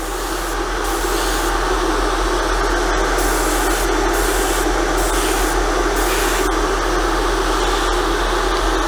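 Airbrush spraying etching primer onto a model, a steady loud hiss running throughout with a few brief breaks in the high spray noise, with no talking.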